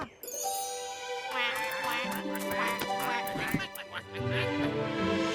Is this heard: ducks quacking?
yes